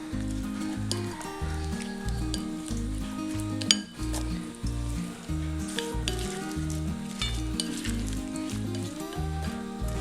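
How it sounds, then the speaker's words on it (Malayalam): Thinly sliced mixed vegetables, including potato, sizzle and fry steadily in a hot pan for Indo-Chinese vegetable chilli, with utensils stirring and clinking against the pan throughout and one sharper knock partway through; no talking. "ഇനി നമ്മൾ അരിഞ്ഞു വെച്ചിരിക്കുന്ന വെജിറ്റബിൾസ് ആഡ് ചെയ്യാം."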